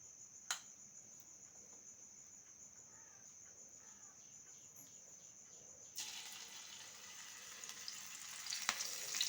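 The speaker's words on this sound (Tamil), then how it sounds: "ஒவ்வொரு பீஸாக நம்ம எடுத்து உள்ளே போட்டோம் அப்படின்னா ஒட்டாமல் இந்த சலசலப்பு அடங்குற வரைக்கும்" Banana flower pieces fry quietly in hot oil on a low flame, a faint steady sizzle with a soft clatter at the start, then a louder, denser crackle of bubbling oil in the last few seconds.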